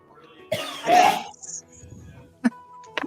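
One harsh, rasping cough bursts out up close, followed by a short pause and a couple of small clicks.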